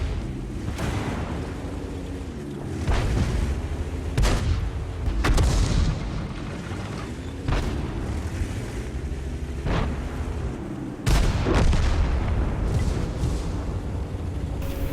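Rapid, heavy gunfire and booming cannon blasts hammer the T29 tank in a video game, with repeated loud impacts and explosions over a steady engine rumble throughout.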